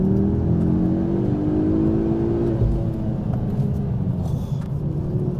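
Ford Focus RS five-cylinder turbocharged engine revs steadily with a deep, continuous drone that climbs in pitch and then eases back, loud and close, with no talking over it.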